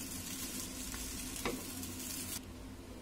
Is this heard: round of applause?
no